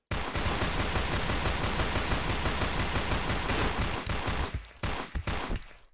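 A gun in the Space Station 14 video game empties a full 31-round magazine in one rapid, sustained automatic burst that sounds loud and close. The fire breaks into a few final short bursts as the magazine runs dry.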